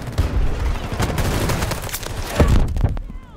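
Loud rapid gunfire bursts out in a first-person video game shooter, a close, dense stream of shots with heavier cracks near the end before cutting off.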